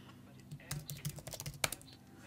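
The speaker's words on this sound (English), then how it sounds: "you can start typing the name of the document here" Typing on a computer keyboard while entering a document name, a quick irregular run of soft nearby key clicks with one sharper press near the end.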